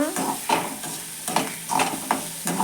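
Brinjal pieces frying in a pan while being stirred, a soft steady sizzle broken by a series of scraping stir strokes at an uneven rhythm, close but fairly quiet.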